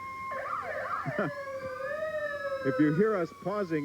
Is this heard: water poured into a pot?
no